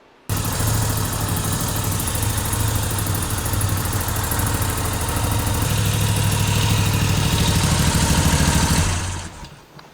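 A 2020 Moto Guzzi V7 III Special motorcycle fires up after an oil change and idles steadily and loudly nearby for several seconds before the engine shuts off and fades.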